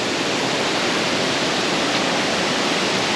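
Sungai Pandan waterfall near Kuantan, Malaysia, pours in a constant, even rush of water that fills the whole moment with dense hiss and roar, with no other sounds.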